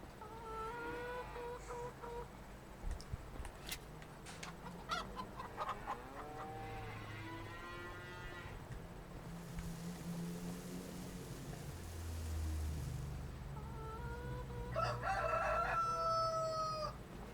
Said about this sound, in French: on va donner à manger aux poules